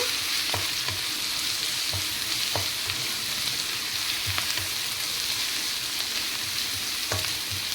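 Kadai chicken fries with chilli paste in a pan, a continuous close hiss and crackle broken by repeated soft scrapes and knocks of a spatula, steady throughout with no talking.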